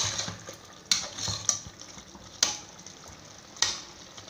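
Biryani masala being sautéed in oil with coriander leaves, a low continuous sizzle broken by a few sharp spoon clicks against the pan, close and quiet, with no voices.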